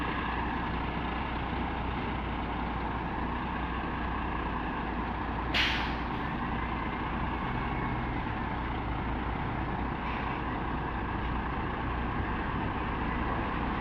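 An 18-wheeler truck stuck in mud revs its engine hard to pull free, a loud continuous diesel roar droning steadily throughout, with a short sharp hiss of air breaking through midway.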